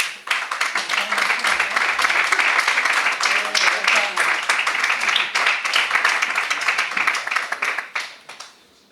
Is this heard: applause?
yes